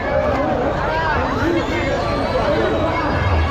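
Dense crowd noise at the Masa Jatra fair in Murbad, a steady babble of many voices and movement that fills the scene continuously from start to finish without pause.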